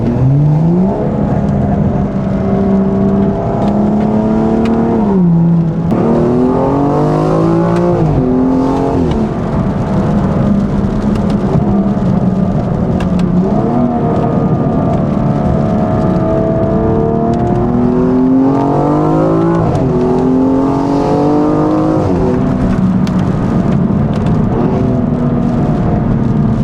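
A BMW M235i N55 exhaust with valved axleback and free-flow downpipe roars loudly up close with valves open in the rain, revving repeatedly with rising and falling pitch, deep and raspy, with a brief lift-off dip early on.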